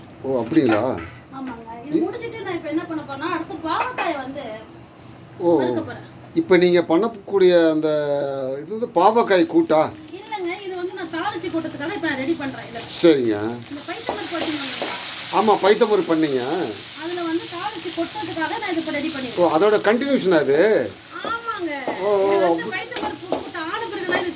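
Onions being tempered in hot oil sizzle loudly and steadily, with occasional stirring scrapes, under continuous talking from two people.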